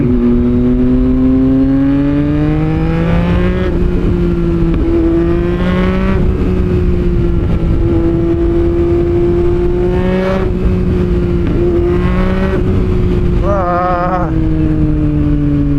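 A Yamaha MT-09 motorcycle engine revs hard and close on a winding road, its loud, steady roar rising and falling through several gear changes with no talk over it.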